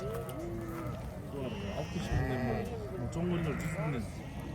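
Several sheep and lambs, including black lambs, bleating repeatedly in overlapping calls, close by, with people talking underneath at a sheep market in Sokuluk.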